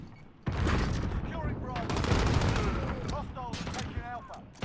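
Shotgun blasts in a video game ring out amid a dense, continuous wash of battle noise, with loud reports and chattering gunfire over several seconds and a voice talking underneath.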